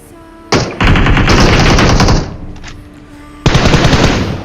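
Rapid automatic gunfire in the shooter game PUBG Mobile during an intense final-zone fight, loud sustained bursts of rattling shots in two long volleys with a pause between.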